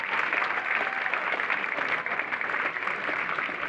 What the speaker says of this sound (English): A big round of applause for our governor